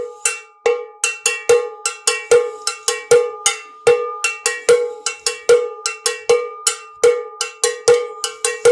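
An LP salsa cowbell struck repeatedly in a steady, bright rhythm, each loud metallic clank ringing briefly before the next hit, close and alone with no voices.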